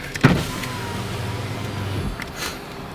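A 2010 Chevrolet Camaro's power window hums steadily as it lowers, with a soft click at the start and quiet cabin noise around it.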